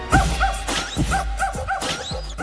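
Dog barking repeatedly in quick yappy bursts at the Hudson Yards dog park in New York City, loud and close, with about seven barks in a row and no talking.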